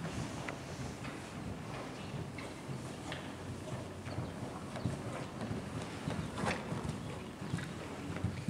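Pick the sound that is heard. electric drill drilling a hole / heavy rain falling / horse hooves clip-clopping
horse hooves clip-clopping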